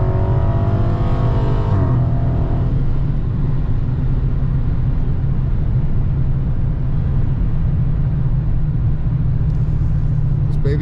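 A Dodge Challenger Scat Pack with the 392 engine accelerates, giving a loud, constant low rumble heard from inside the car. The engine note shifts early on, as if changing gear.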